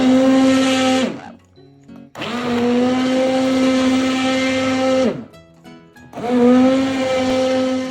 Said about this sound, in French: Hors du feu, je vais mixer avec un mixeur plongeant.